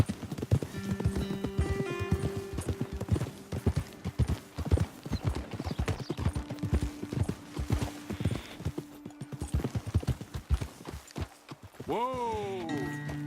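Horse hooves clip-clop steadily on a trail in Red Dead Redemption 2 as riders climb toward a vantage point, a brisk rhythmic gait with a whinny and a snort near the end, with game music underneath.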